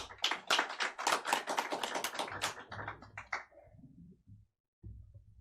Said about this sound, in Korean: 최재성 교수님 큰 박수로 맞아주십시오.